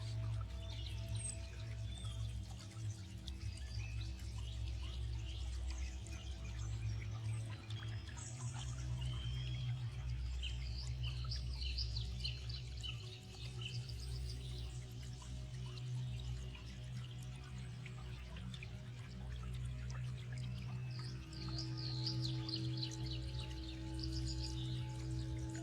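Birds chirp and trill faintly in the background over a steady low hum and flowing water, with intermittent song phrases recurring throughout.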